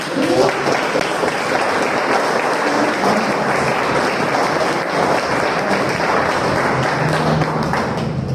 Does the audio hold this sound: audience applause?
yes